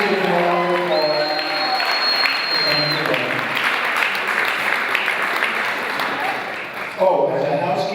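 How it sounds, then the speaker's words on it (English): Wedding guests at a Tribeca rooftop celebration applaud loudly and steadily, a thick crowd of clapping with scattered cheers, while a voice talks over the start and again near the end. "Please give them a round of applause"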